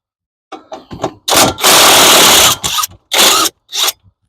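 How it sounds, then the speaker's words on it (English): Cordless battery impact wrench driving a 15 mm chrome socket during a Cadillac DTS front wheel bearing job, heard as several loud close bursts of hammering rattle, one long sustained run and a few shorter pulses. "Okay, there should be a 15 millimeter socket in that bin. Use your chrome sockets on your impact."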